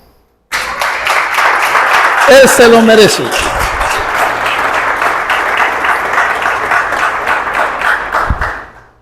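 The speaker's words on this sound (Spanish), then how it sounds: "Aplauda al Señor." A congregation at an evangelical church service breaks into steady clapping while a voice speaks over it throughout.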